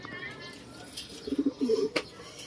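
A racing pigeon coos softly at a loft during a race return, a few low throaty coos in a short burst against faint background noise.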